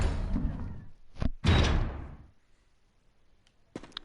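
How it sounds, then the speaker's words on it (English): A heavy door in the Resident Evil Remake video game grinds and thuds open, with a loud mechanical rumble and a slam, followed by a short quiet gap and a few faint clicks. "That opens this door."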